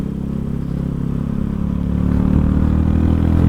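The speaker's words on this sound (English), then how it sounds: "Oh, sounds amazing. That exhaust note." A Mutt 250 motorcycle's exhaust revs up close, its rumbling note rising and growing louder toward the end.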